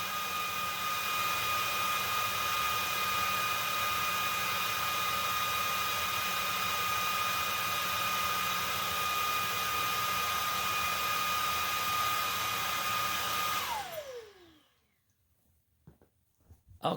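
An Oraimo S2 vacuum runs at its highest suction speed with a loud, steady whine and airy roar, holding constant for about fourteen seconds before the motor shuts off and spins down, leaving near silence.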